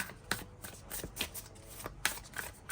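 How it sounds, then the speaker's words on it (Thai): A deck of thin paper cards being shuffled by hand, with quiet riffling bursts and soft flicks arriving in irregular rhythm, close and low in level, no speech. "สับไพ่แบบเมื่อกี้ได้นะคะ"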